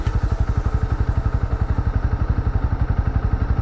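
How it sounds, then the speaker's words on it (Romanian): A motorcycle on a hot mountain road in Thailand chugs with a steady, rapid, loud thumping engine pulse while coming to a stop, close by and with no talk. "durează un pic, câțiva metri să oprești motocicleta"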